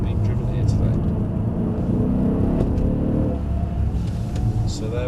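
Mercedes cars driven hard on a test track, with a continuous roar of engines rising and falling as they accelerate, steady and fairly loud throughout.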